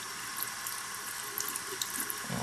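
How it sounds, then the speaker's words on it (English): Tap water runs steadily into a bathroom sink while a makeup brush is wetted, a soft continuous hiss with faint spatters, close and alone. "So I'm wetting my brush."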